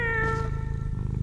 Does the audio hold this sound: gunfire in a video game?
no